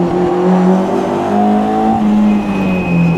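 A Lotus Elan 26R race car driven on track, its engine loud and close with a sustained, rising and falling note as the throttle shifts, and no talk.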